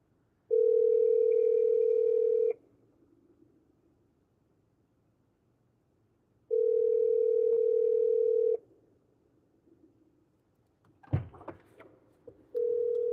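A phone call rings out over speakerphone as steady, loud electronic ring tones in two-second bursts separated by long pauses, with a brief clatter of handling near the end.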